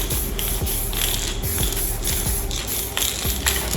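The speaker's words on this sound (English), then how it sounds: "some black spray paint" A can of black spray paint hisses out a guide coat in several short, close bursts, with faint clicks and shuffling handling noise between sprays.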